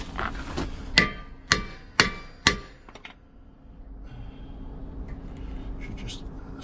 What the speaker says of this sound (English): Slacken off that screw there by hitting it.